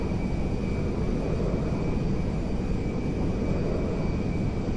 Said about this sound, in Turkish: dünyanın en büyük yangın uçağı Boeing 747 tanker uçağı